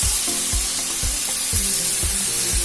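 Duck curry sizzles and fries in a hot pan after water is poured in, a steady close crackle with a few soft stirring scrapes and low bumps.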